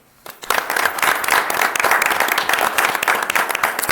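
At a city council meeting, a round of applause for an employee of the month breaks out after a brief quiet moment and continues loud and dense for several seconds.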